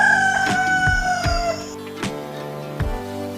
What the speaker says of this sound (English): And this is a hen.